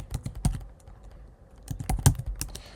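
Bursts of typing on a computer keyboard, quick clustered keystrokes with a short pause in the middle, close and moderately loud with no talking.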